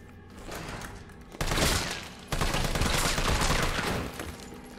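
Bursts of rapid gunfire in Resident Evil 3, two loud sustained volleys of repeated shots with a brief gap between them, close and harsh, no talking.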